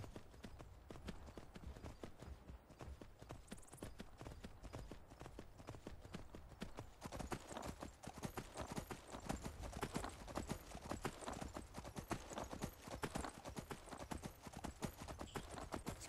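Steady clip-clop of horse hooves on a trail in Skyrim, an even trotting rhythm running through the whole stretch, close and moderately loud, with occasional game ambience and a faint voice beneath.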